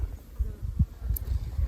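Honey bees flying out of sun-warmed hive boxes in winter buzz close by with a soft low hum, one louder drone passing briefly near the middle.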